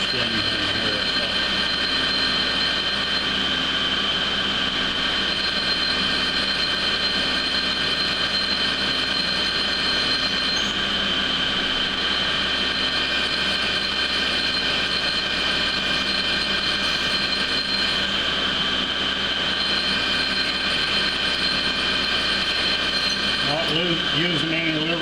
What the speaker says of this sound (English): I've got it set up in the center of the vise so that I can drill right through this